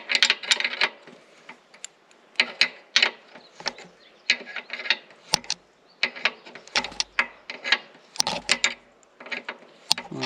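A hand wrench turns a bolt on a Kubota KX080 excavator, giving a string of sharp metallic ratchet clicks in irregular bursts, close and crisp against a quiet background.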